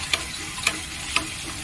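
Chili powder is stirred into a frying spice mix, with three sharp scraping clicks of a spatula against the pan at regular intervals over a soft, continuous sizzle.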